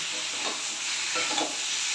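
Spice paste frying lightly with boiled shola taro and potato in a pan, a short steady sizzle with soft stirring scrapes, close and constant, no voices.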